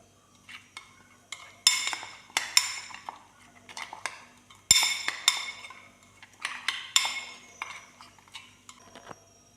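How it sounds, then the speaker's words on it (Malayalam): Eggplant slices for a fry are tossed with turmeric powder and spices, a utensil clinking and scraping against a metal bowl in bright irregular bursts with quiet gaps between them. "കുറച്ചും മഞ്ഞൾപ്പൊടിയും കൂടി ചേർത്തു ഇനി എല്ലാം കൂടി ഒന്ന് നന്നായി മിക്സ് ചെയ്തെടുക്കാം"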